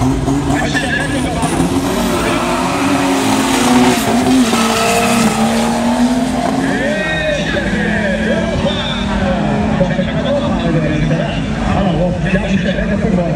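A turbocharged Chevette drag car launches down a drag strip, its loud engine rising and straining in long pulls, with an announcer talking over it throughout.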